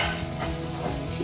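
Ridge gourd cooks in oil in a covered pan, giving a steady, close sizzle and crackle that holds evenly for the whole moment, with no talking.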